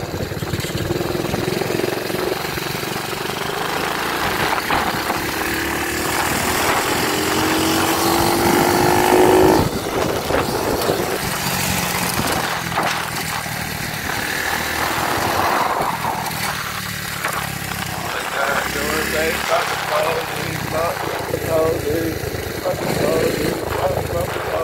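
A dirt bike engine idles and revs close by outdoors, a loud continuous buzzing drone that rises in pitch near ten seconds before settling back, with people talking over it.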